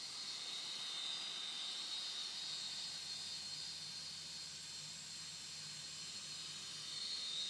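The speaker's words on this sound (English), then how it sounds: "The motor turns quite fast" A small hard drive motor driven by a cheap speed controller spins fast, giving a steady high-pitched whine with airy hiss that holds constant throughout, near and alone.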